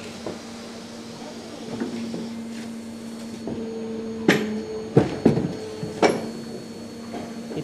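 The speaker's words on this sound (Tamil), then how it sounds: "இதான் நம்ம கட்டிங் மிஷின்." A diary paper cutting machine runs in a workshop with a steady low hum, punctuated by several sharp mechanical clunks and thuds toward the end, fairly quiet overall.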